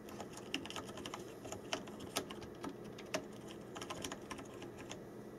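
Soft, quiet typing on a Logitech G910 Orion Spark mechanical keyboard, a steady patter of muted key clicks, some slightly louder strokes scattered through, heard close and alone.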